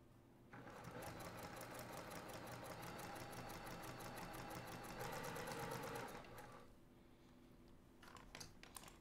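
A sewing machine stitches the seams of a quilted table runner in one continuous close run of rapid needle clatter, then stops, leaving light handling clicks.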